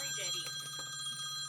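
A mobile phone rings with steady high electronic tones during a podcast recording, quiet and continuous, with faint voice sounds underneath.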